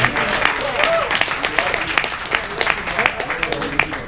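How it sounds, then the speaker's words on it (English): A meetup audience at a New York blockchain community event gives a round of applause, steady clapping running throughout while a voice speaks over it. "I want to give a round of applause."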